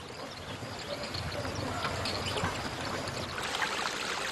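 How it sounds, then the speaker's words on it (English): Water running through a stream in a Chinese village, with a steady broadband wash of flow that holds constant throughout and grows slightly brighter near the end, with no voices. "Water flows through the village from east to west"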